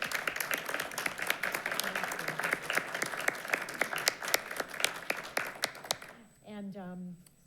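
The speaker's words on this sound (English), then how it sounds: "A big round of applause." Audience applause at an Oak Park city council meeting, loud, dense clapping filling the room for about six seconds before dying out as a voice begins speaking.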